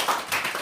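A short burst of classroom applause in an eighth-grade mathematics lesson at a school, brief close claps rising and falling over less than a second.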